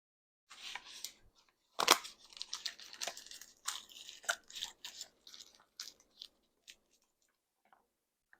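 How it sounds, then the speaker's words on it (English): A knife cutting through a solid no-bake peanut butter cup, heard close up as a series of crisp crunching and cracking snaps with brief pauses, alone without talk, fading out at the end. "we're gonna cut a little piece here, and we're gonna taste it"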